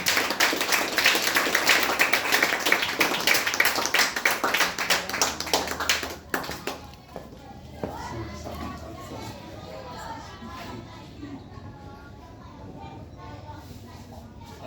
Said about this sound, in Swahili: tumpigie makofi mazuri anapokuja